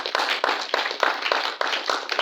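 A church congregation claps in praise, a dense, loud wash of many hands with regular rhythmic surges about every third of a second, close and continuous with no talk over it.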